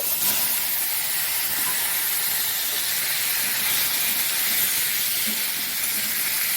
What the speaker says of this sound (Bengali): আলুগুলো একটু তেলে ভেজে নিচ্ছি